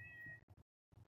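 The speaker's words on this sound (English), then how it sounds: "I think that's one of my cats." A domestic cat meows close by in a quiet Texas home, one drawn-out cry followed by a few short, soft chirping calls.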